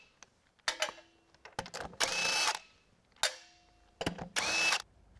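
A cordless impact wrench removes car wheel lug nuts, working in two loud bursts of buzzing, rattling hammering, each preceded by sharp metallic clicks and clatter from the tool and nuts, with quiet gaps between.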